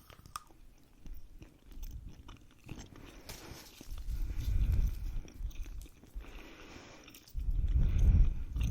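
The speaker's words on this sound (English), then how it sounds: "If you are triggered by eating sounds or gum sounds, I suggest you do not watch this video." Gum chewed close to the microphone gives soft wet smacks and crunchy bites in uneven bursts that swell louder toward the middle and end, with no talking.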